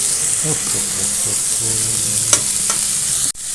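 Garlic sizzles and fries in a pan with steady close crackling, a few soft stirring knocks and a utensil clack near the end, no voices.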